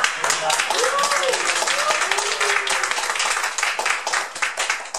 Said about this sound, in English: let's give her a round of applause for the cake.